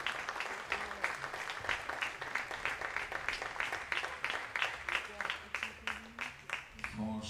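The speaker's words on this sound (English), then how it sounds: "Fifth place, big applause." Spectators at a shooting final applaud the fifth-place finisher with steady, rhythmic clapping that stays fairly distant and moderate, with a few faint voices underneath.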